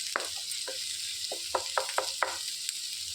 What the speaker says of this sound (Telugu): ఉల్లిపాయ అనేది మెత్తపడే వరకు వేయించుకోవాలి